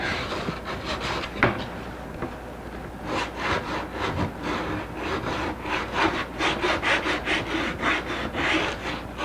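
Wood from a Martin 00 style acoustic guitar is beveled along an inside edge, making repeated short rasping strokes in uneven bursts that sound near and moderately loud.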